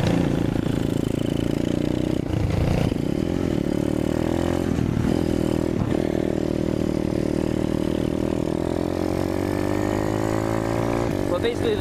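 A 2019 Apollo 125 pit/dirt bike engine running nearby with a steady droning hum and a few brief clattering bumps, while someone talks over it.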